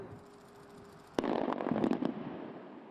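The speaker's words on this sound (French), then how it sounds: "on va donc régulièrement faire exploser des morceaux de roche pour déblayer le chemin" A rock blasting charge goes off at a road construction site, a sudden sharp detonation followed by a burst of crackling debris and rumbling that fades out over about a second, heard from a distance.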